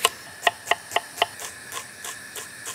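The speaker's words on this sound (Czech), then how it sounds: "Nakrájím trochu cibulky." A knife cuts onion on a board in a series of sharp, evenly spaced chops, crisp and close, then softer strokes follow, with no talking.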